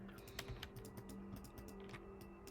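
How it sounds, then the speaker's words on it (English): Quick keyboard shortcuts are tapped on a computer keyboard as a run of close, soft, uneven clicks. A steady low hum runs underneath, and no one speaks. "I was doing some keyboard shortcuts"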